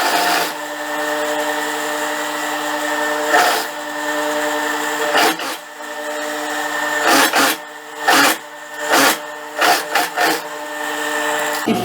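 A sewing machine runs while stitching the side seams of a dress with a yoke, a steady mechanical whir broken by several short stops and restarts toward the end.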